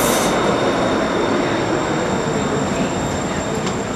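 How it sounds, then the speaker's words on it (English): A loud, steady roar of a Blue Line metro train to Hillsborough running on rails, broadband rumble with a faint high whine, continuous throughout with no talking. "This is a Blue Line train to Hillsborough."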